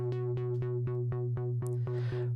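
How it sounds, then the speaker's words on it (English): Uno synth running dry into AUM with no effects, playing a repeated plucky note about every quarter second over a steady sustained low drone, ending in a brief hiss-like burst. "this is where the Uno synth is coming into AUM"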